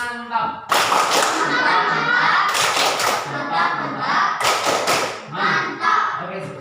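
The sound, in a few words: group applause, clapping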